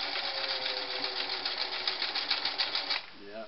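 A Singer Model 347 sewing machine stitches fabric with a steady, fast mechanical whir and clatter, close and continuous, then slows and stops near the end.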